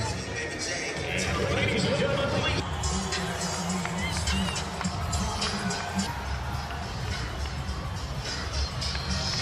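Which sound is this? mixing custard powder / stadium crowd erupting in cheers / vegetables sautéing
stadium crowd erupting in cheers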